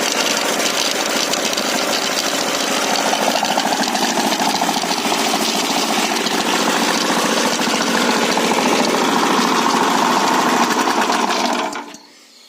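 Loud, close, steady rattling chug of a walk-behind tractor engine running on gas, holding a constant note for about eleven seconds before cutting off abruptly.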